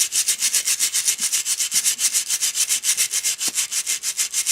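Fast, rhythmic scrubbing of a brush over oiled, rusty metal parts, about eight strokes per second, bright and close, with nothing else audible.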